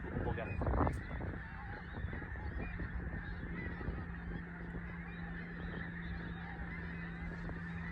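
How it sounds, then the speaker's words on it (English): Faint, distant honking of thousands of geese on a UK beach carries as a continuous murmur over steady background noise, with one nearer call early on. "there's thousands of geese everywhere on the beach"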